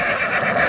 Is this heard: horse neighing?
yes